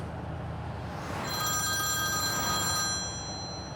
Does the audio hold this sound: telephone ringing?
yes